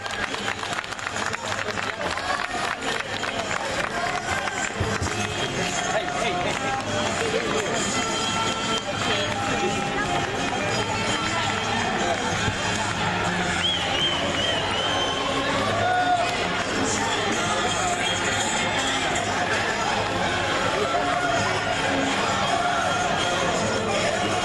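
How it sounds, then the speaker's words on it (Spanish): A crowd applauds musicians at a music launch event at Peru's Government Palace. The clapping is dense and sustained throughout, with voices mixed in. "Que vengan los fuertes aplausos"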